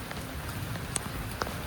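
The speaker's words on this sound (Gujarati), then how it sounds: "હાલો હાલો વરસાદ આવે છે ભાઈ" Heavy rain falls steadily as a soft, even hiss across a wide spread, with a couple of faint drip-like ticks near the middle and end, and no voices.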